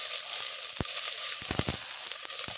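Onion and garlic sauté together in a hot pan, giving a continuous soft sizzle broken by a few sharp clicks and taps, with no talking.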